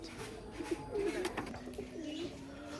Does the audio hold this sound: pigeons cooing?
yes